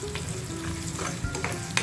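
Hot tempering (phodni) for makhana and poha chivda, a continuous close crackle and sizzle with light stirring scrapes, no talk.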